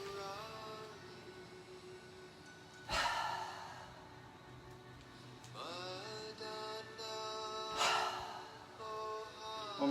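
Slow, audible exhales during a qigong exercise, with breathy gusts that swell and fade over a soft tonal background, close to the listener.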